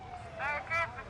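Emergency vehicle sirens wail at a Christmas parade, a warbling rising-and-falling tone that swells twice in quick succession, mixed with crowd noise and voices.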